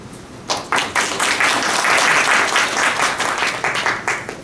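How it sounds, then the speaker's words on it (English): An audience at a startup enterprise event connecting Taiwan to California bursts into applause, a loud sustained round of many hands clapping that swells and then tapers. "And you definitely deserve a big round of applause to yourself."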